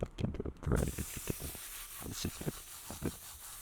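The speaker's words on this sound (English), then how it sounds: "a simple way to do it is to just rinse it off with a hose, like this." A hose rinses a cleaning pad used with Poli Glow floor finish, giving a soft hissing spray with patchy splashes and dabs, fairly faint and close.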